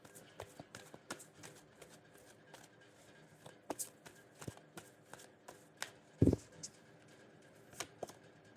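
Tarot cards being shuffled in a steady run of soft, crisp riffling taps, close and fairly quiet, with one louder thump near the end and no talking.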